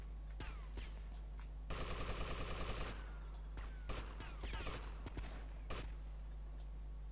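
Bursts of automatic gunfire in Vice City, the Grand Theft Auto game: a sustained rattling volley of about a second, then a string of sharp single and double shots scattered across the rest, loud and close.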